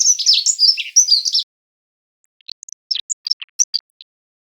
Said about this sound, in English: Here are some bird sounds.